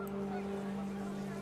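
Geese honk in the video game What Remains of Edith Finch as wind picks up, a faint, steady tonal call held through the short moment over quiet background ambience.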